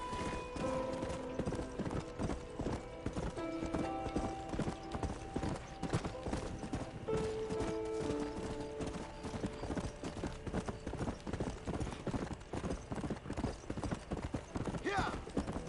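Horse hooves clip-clop steadily through a Red Dead Redemption game session, layered under constant in-game music and ambience, with an occasional whinny and voices heard intermittently over the galloping.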